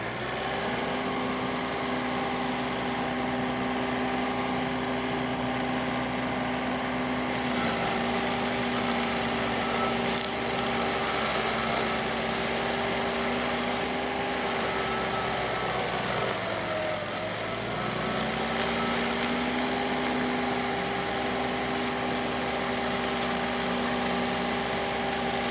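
Stump grinder engine running steadily at close range, a loud sustained drone with one brief dip in pitch midway before recovering.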